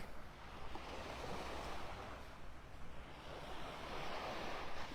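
Ocean surf washes continuously onto a beach in North Naples, Florida, a steady broadband roar of breaking waves with light wind, fairly faint and with no voices.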